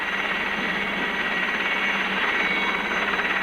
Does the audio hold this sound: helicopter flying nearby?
yes